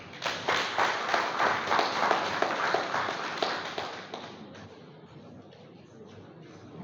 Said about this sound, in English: A hand of applause for him.